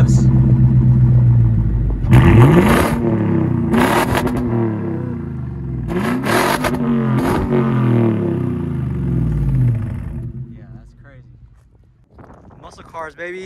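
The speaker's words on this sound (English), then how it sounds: "Let's get some revs." A throaty Lexus GX460 SUV engine revs hard several times in bursts, each blip rising and falling with a crackling exhaust, then settles to idle and fades.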